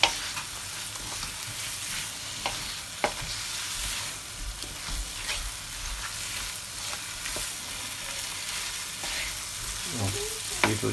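Jamaican peppered shrimp fry in a pan with a loud, continuous sizzle, while a spoon scrapes and stirs the shells now and then, close up with no talking.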